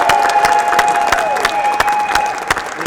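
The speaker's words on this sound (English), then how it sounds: "So give yourself a round of applause" A crowd at a rally applauds with loud, sharp claps, mixed with a few cheers and a thin whistling tone.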